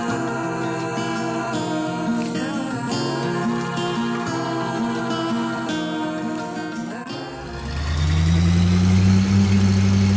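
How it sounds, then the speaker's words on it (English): An ambulance engine idles with a steady mechanical drone, then a deeper, louder low hum swells in for the final few seconds, close and continuous. "Ambulance."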